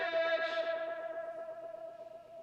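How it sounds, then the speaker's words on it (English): A sustained sung vocal note in a pop punk mix carries a short echo with long feedback, its repeats pulsing rapidly and gradually fading as the tone holds. "I did this one extra vocal echo, and it's a shorter echo with a longer feedback."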